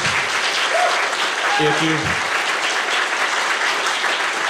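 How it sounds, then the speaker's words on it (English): Audience at the Shirley Jackson Awards at Readercon applauding the jurors, steady full-room clapping throughout, with a brief voice or two briefly audible over it. "give a round of applause to our jurors who are here"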